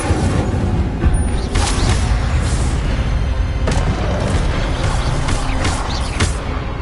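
Incendio, the fire spell in Hogwarts Legacy, cast repeatedly during a duel: loud, dense whooshing bursts and booming impacts recur over a constant roar of combat noise.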